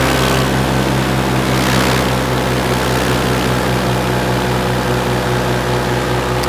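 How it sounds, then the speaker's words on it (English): A B-1 bomber's jet engines roar at full afterburner during EAA AirVenture Oshkosh, a loud, steady, unbroken rumble that fills the whole stretch with no speech over it. "the sound of a B1 going full afterburners"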